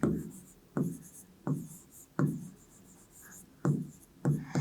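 A pen writing on paper during a maths lesson, with short scratchy strokes repeating about every half second to second, close up and fairly quiet, alone without speech.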